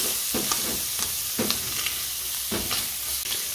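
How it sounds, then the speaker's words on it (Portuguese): Butter is stirred into a hot frying pan with bacon, giving a steady background sizzle broken by a few soft, irregular scrapes of the spoon. "Vou adicionar uma colher de sopa de manteiga aqui. Vou mexer um pouquinho."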